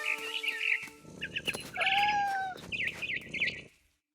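A cat meows in the game What Remains of Edith Finch, with a long drawn-out meow mixed with bird twitters and soft scuffling, close and clear before fading to silence at the end.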